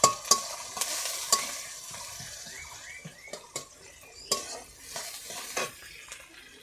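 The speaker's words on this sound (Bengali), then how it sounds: "একটু ব্রাউন কালার করে এটা একটু রান্না করে নেব।" Onions fry until brown for chicken biryani, giving a soft sizzle under repeated sharp clinks and scrapes of a stirring spoon against the pan.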